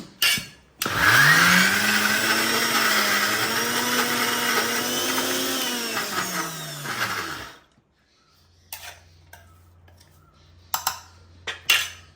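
A mixer grinder grinding horse gram chutney whirs loudly and steadily for several seconds, then stops, followed by a few sharp clicks and knocks of the jar.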